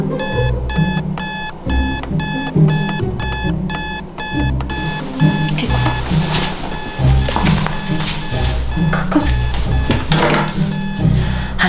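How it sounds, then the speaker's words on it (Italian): A school alarm rings loudly, an electronic alarm-clock-like beeping in rapid repeated pulses at first, then blurring into a continuous ringing tone with clattering noise underneath, alone without talk. "ha suonato l'allarme a scuola"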